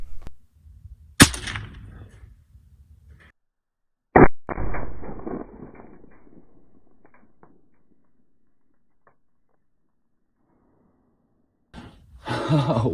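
A .177 Gamo Magnum air rifle fires at a tough metal plate, giving a sharp crack, then a second loud impact-like report with a decaying tail, and a burst of noise near the end.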